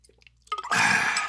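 Someone takes a drink of bottled water: faint handling sounds, then a close, steady gulping and sloshing swallow lasting under a second, alone with no talk.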